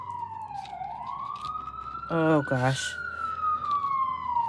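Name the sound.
siren outside city window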